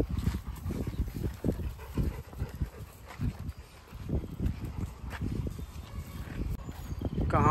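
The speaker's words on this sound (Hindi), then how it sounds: "कहाँ से डॉग भौंक रहे हैं?" Dogs bark in the background, mixed with loud outdoor noise and rustling, while several dogs move about nearby at a daycare.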